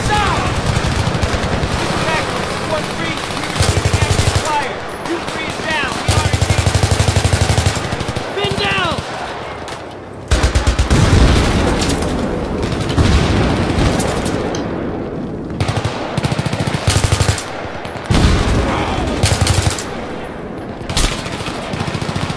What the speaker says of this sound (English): Vehicle down, taking fire from the left.